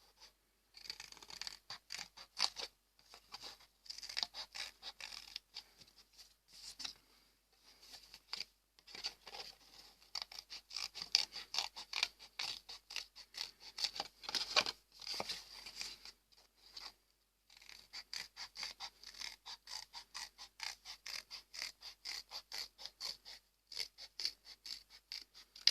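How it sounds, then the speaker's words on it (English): Scissors cut red paper into a heart shape. Quick, quiet snips and rasping scrapes come close together in irregular bursts, with short pauses between cuts and no speech. "With a pair of scissors we will create our"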